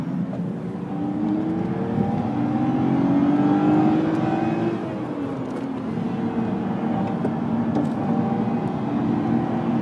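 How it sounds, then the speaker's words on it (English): Tesla Model S driving along a road, a steady whirring tire and road roar with a smooth rising tone that swells through the middle and then settles, moderately close with no talking. "I see my first Tesla coming up."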